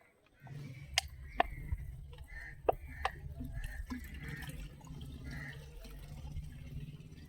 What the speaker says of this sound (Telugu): ఈ లీటర్ వాటర్ దీంట్లో అయితే వేద్దాము